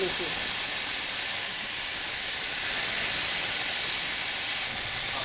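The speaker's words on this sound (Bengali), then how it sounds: "ঢেলে দিচ্ছি এই যে সিজনিং সাউন্ডটা" Hot oil or ghee poured over a cooked duck dish, producing a loud, steady hiss and sizzle that holds without a break for several seconds.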